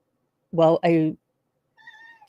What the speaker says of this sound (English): I've got a cat who's upset because she's locked in my room.